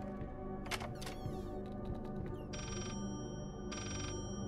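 Phone ringing in the horror game Layers of Fear (2016), two bursts of an old-fashioned bell ring separated by a pause, following some scattered clicks and knocks over a dense, droning musical background.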